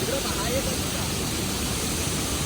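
A waterfall in the Konkan hills near Lanja, Ratnagiri, gives off a steady close rushing roar of falling water, an even broadband wash that fills the whole stretch.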